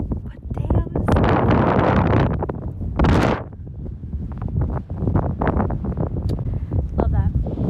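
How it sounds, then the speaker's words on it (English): Strong outdoor wind buffets the microphone with a continuous loud, low roar and rushing gusts that swell and ease, and a voice can be heard through it at times. "because of this powerful wind that's happening here"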